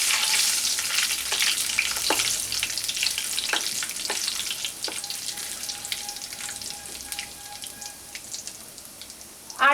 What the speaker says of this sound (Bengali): এবার আমি ফোড়নে দিয়ে দেব দুটো তেজপাতা, একটা শুকনো লঙ্কা আর গোটা জিরে।